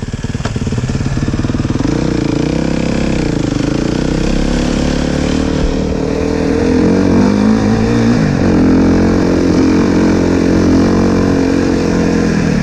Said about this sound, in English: All right, this is a 16 450 RMZ.